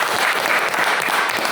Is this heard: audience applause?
yes